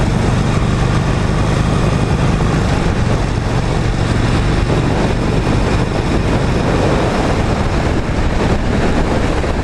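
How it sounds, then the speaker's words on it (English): A Harley-Davidson Sportster 48 runs at wide open throttle in fifth gear, a loud, constant engine roar mixed with heavy wind rush and no letup throughout. "Wide open throttle in fifth gear."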